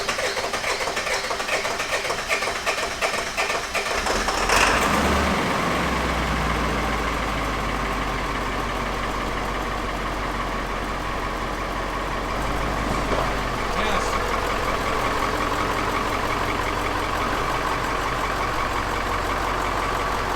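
A Ford 7.3 diesel 4x4 van engine running after five years idle, starting with a clattering crank then settling into a loud, steady rumbling idle that continues close by.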